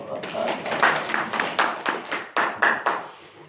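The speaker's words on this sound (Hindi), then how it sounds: "ताली बजाओ" Hands clapping in a class, a run of distinct claps at an uneven steady pace, moderately loud and close, with a voice faintly underneath.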